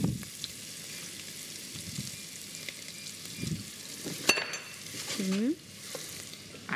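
Onion sautéing in a pan gives a soft, steady sizzle with occasional stirring scrapes and a light clink of utensils, moderately quiet and close, with no talk over it.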